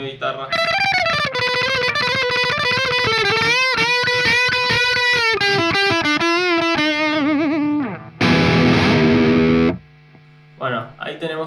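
Distorted electric guitar recorded through free amp-simulator plugins, playing sustained chords and riffs loud and up front, with a bright strummed burst near the end before it drops to brief quiet hits.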